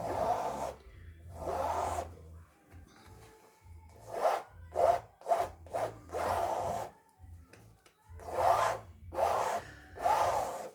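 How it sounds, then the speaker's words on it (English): Palette knife scraping heavy wet oil paint off a canvas in a series of rough, close rasping strokes, some long and some short quick passes, with pauses between them and no talking. "I'm going to start scraping all this heavy paint off"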